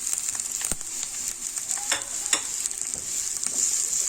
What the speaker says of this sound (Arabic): وهنا حبايب قلبي ننزل بالفلفل الالوان بتاعي.